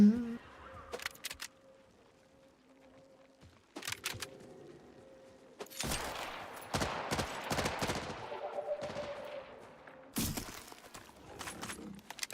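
A Jacob assault rifle fires in a video game in quick, harsh bursts of shots, loud and near, mixed with sharp mechanical clacks and brief quieter gaps.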